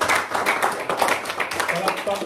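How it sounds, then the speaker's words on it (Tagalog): A church congregation claps in praise at a service, a brisk, roughly rhythmic patter of many hands filling the room while a voice keeps speaking over it. "Palakpak ng tagumpay."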